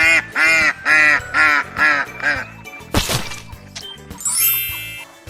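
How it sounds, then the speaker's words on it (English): Ducks quacking on a farm, six loud, evenly spaced nasal quacks close by, then a sharp crack and a brief high chirping sound to finish. "3 yellow ducks."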